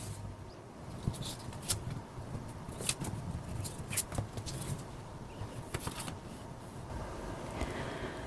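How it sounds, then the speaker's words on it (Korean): Tarot cards are shuffled and drawn at a reading table, with soft, close-up riffling and papery patter broken by small taps and flicks as cards are handled, all fairly quiet. "카드로 한번 뽑아보도록 할게요"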